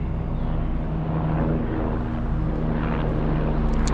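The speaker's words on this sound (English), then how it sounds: "There's an helicopter there." A helicopter passing overhead outdoors gives a steady low rotor drone with a mechanical hum, constant and fairly close, with no talk over it.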